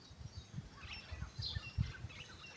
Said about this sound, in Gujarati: જો કેટલા બધા ચકલા બેઠા છે તાર ઉપર